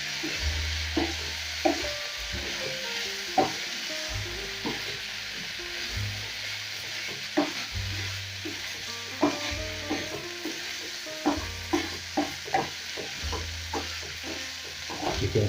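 Chicken liver dry-fries in a pan without water, hissing and sizzling steadily while a utensil stirs and scrapes with irregular clicks and knocks throughout.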